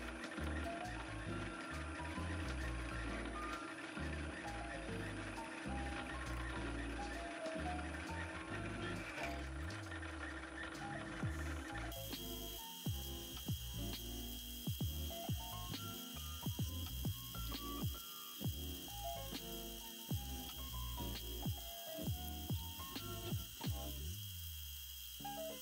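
A milling machine drilling 1/4 inch steel plate with manual feed, a steady mechanical whir and rhythmic grinding that shifts in tone midway, continuous and fairly loud.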